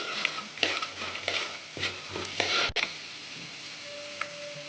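Peanuts frying in a pan are stirred with a run of scraping, rattling strokes. A soft sizzle sits under the strokes, followed by a sharp knock and then quieter frying.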